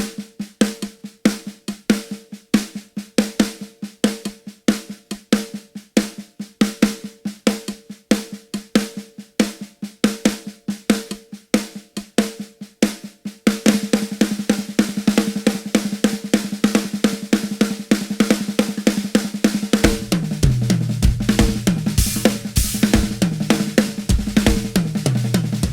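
A drum kit plays a fill with an accent on every sixteenth note, a fast, even stream of hits: first crisp, separated strokes, then a denser, louder run with cymbals washing over the toms toward the end.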